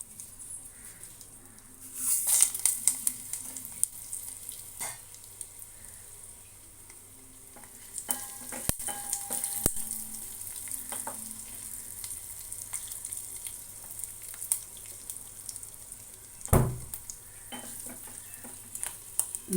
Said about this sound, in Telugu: ఆవాలు, జీలకర్ర, పోపులు, ఎండుమిర్చి, కరివేపాకు, వెల్లుల్లిపాయలు వేసుకుందాము.